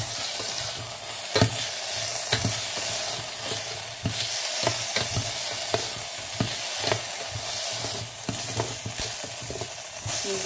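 Food for khichdi fries in a pan while being stirred, giving a steady close sizzle broken by repeated scraping strokes of the spoon. No one speaks.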